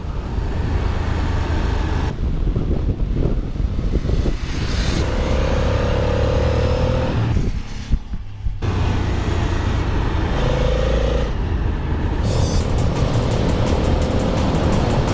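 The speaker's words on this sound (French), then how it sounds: "Le moteur est absolument parfait sur ce genre de route." Ducati 800 Monster S2R motorcycle engine on the road, droning loudly and steadily throughout, with the revs rising and falling through gear changes, one brief drop near the middle, and strong wind rush over it.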